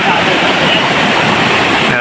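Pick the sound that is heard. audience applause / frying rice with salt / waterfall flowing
waterfall flowing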